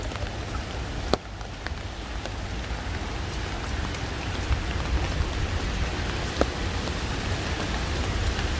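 A hail storm in Israel pelts down in a dense, steady patter of impacts, with a couple of sharper, louder strikes standing out from the continuous roar.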